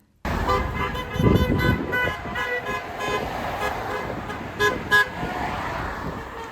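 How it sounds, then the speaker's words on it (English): Car horns honk repeatedly in short toots as drivers pass a street protest, some close and loud, others overlapping at a distance amid passing traffic. "encouraged by the protesters to honk their car horns as they drove by"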